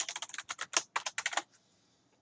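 Rapid typing of a wallet passphrase on a computer keyboard, with about a dozen crisp keystrokes in quick bursts, then a short silence and one last key press.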